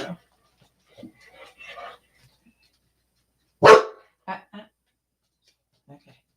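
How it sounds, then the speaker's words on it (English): A dog barks once, loud and close, in a burst that stands out amid sparse human speech before and after; the barking is set off by a mail truck passing the house. "So the dog's going to start barking because I think the mail truck came through."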